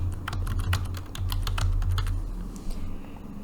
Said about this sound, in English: maybe I come in here and I type something